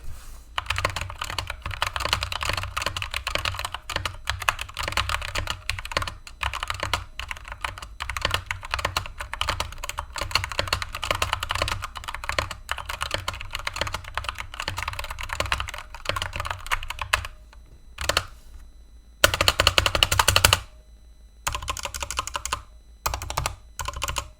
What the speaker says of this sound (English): So here's what this keyboard sounds like.